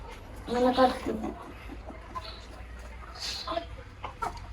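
Chickens cluck in short bursts, a louder run near the start and softer scattered clucks later, over a quiet outdoor background.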